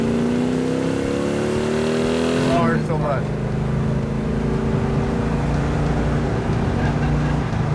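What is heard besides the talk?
car engine revving with dual quad carburetors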